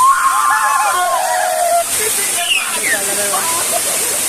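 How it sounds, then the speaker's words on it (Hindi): Steady rushing and hissing water from the Ogi waterfall, a continuous spray with a person talking over it and a whistle-like tone early on. "झरना"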